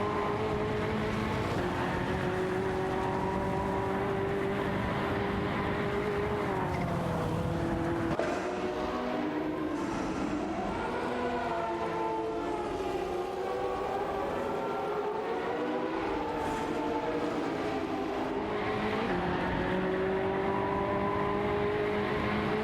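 Video game race cars, including a Pagani Zonda, roar past in a continuous engine drone, with revs rising and falling as cars shift gears and jostle through corners, loud and steady with no voices.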